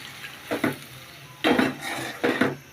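A spatula scrapes and stirs egg curry with coriander leaves as it sautés in a pan, making three close, distinct scraping strokes over a faint background sizzle, with no voices.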